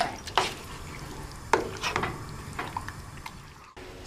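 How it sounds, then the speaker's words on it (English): Chili ingredients stirred in a pot over medium heat, a spoon scraping and clinking against the pot with a soft wet churning under it, a couple of sharper knocks, no talking. "you're going to put this over medium heat. And you're just going to stir your ingredients together"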